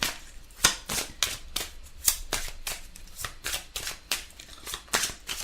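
Repeated crisp card snaps and flicks from a chakra oracle deck, about a dozen quick bright slaps in a steady rhythm, close and moderately loud with no talking.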